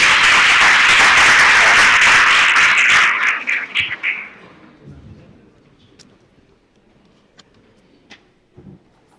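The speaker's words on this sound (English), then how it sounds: "let's welcome her onto the stage with a nice big round of applause" An audience gives a speaker a loud, sustained round of applause for about three seconds, which fades into scattered claps and quiet room noise at a work-readiness training event.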